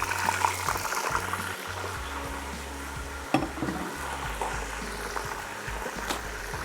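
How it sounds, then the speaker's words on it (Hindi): Chicken frying in a pan with browned onions, a steady sizzle with faint stirring and light clinks throughout, no talking. "जब चिकन को अच्छे से हम फ्राई करेंगे"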